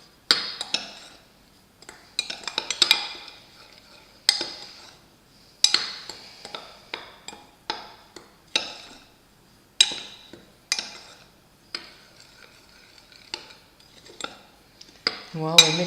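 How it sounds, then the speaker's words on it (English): Dry seasoning and ground white pepper are mixed in a bowl, heard as repeated close clinks and scrapes of a utensil against the bowl in uneven rhythmic bursts with short pauses between. "we'll mix all that together. Get it all incorporated evenly."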